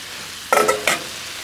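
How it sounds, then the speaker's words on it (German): Mushrooms tipped onto onions and bacon already frying on a grill, giving a short stirring scrape and sizzle in two quick bursts, close and clear with no talk. "Jetzt kommen noch die Pilze dazu."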